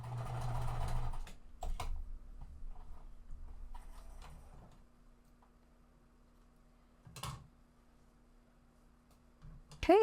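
A sewing machine stitching quilt pieces runs in a short, fast, dense whir at the start, then falls quiet under a low steady hum and a few faint clicks and handling sounds.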